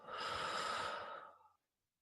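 A person exhales during a breathing exercise, a single long, soft breath out that lasts about a second and a half and then stops into silence.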